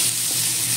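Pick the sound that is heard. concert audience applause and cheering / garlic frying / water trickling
garlic frying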